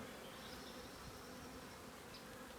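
Agitated honeybees buzzing around an open hive on a cool day, a faint, steady droning hum throughout with no voices.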